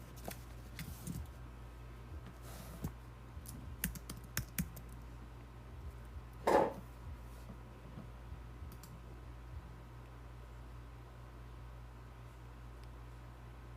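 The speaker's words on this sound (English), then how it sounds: "I need my keyboard so I can do some typing" Keys on a computer keyboard are typed in short, quiet bursts early on, then scattered clicks and one louder tap, set against a steady low hum in a quiet room.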